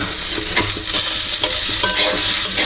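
Bay leaves are stirred around a hot cooking pan with a loud, continuous sizzle, scraped by irregular stirring strokes close up, with no talking.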